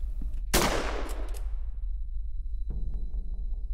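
A single trench gun shot fires in the Termina video game: one sharp loud blast that rings out and decays over about a second, followed by quieter low game ambience.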